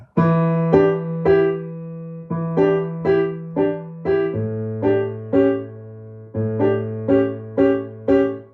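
Rhythmic, syncopated piano chords from a song, with a steady low bass note underneath, played in short punchy bursts with a funky groove.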